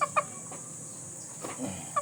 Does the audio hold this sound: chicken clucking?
yes